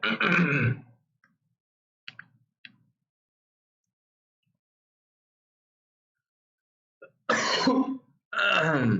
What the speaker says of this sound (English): can I stop coughing ever?